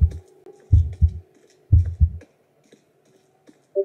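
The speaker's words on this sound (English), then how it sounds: "I don't like the heartbeat" A heartbeat pulses in a Roblox horror game, with deep, close thumps arriving in lub-dub pairs separated by short pauses, over a faint tonal hum.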